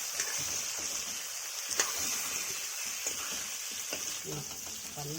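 Cut ivy gourds (dondakaya) frying in hot oil for masala dondakaya, a continuous sizzle with occasional stirring scrapes.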